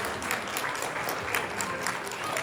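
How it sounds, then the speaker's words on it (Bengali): Audience applause at a Rabindranath cultural stage programme, dense even clapping from a crowd of listeners that stays steady throughout. "জোরে হাততালি সবাই একবার।"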